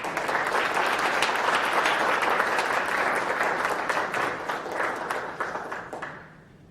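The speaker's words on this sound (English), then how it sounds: "give them a round of applause" Loud, dense applause from a crowd at a panel discussion, steady and sustained for several seconds before tapering off at the end.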